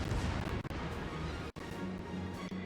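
Heavy gunfire from the Soviet battleship Lenin in World of Warships, a rumbling, booming roar that fills the moment with one sharp break, loud and close with no talk over it.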